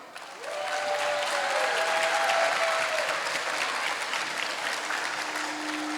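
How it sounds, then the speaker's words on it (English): Sustained audience applause for participating students at a school annual day show, a dense wash of clapping that swells quickly and holds steady, loud and close throughout. "give a huge round of applause to all the students who participated today"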